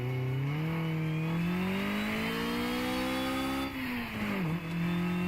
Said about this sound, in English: let's see the difference in the dyno